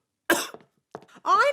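A cartoon character in Ben and Holly's Little Kingdom coughs after taking cough mixture: one sharp cough, a brief pause, then a longer raspy throat-clearing cough, close and alone.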